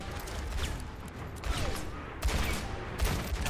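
Ashe's rifle landing a headshot in Overwatch, with sharp gunfire cracks punctuating a dense, busy wash of game combat noise.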